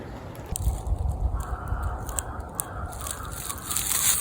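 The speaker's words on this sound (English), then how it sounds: "You can hear the crows in the distance." Crows caw in the distance in an outdoor wooded area, a few harsh calls scattered over a low rustling, windy background; no one speaks.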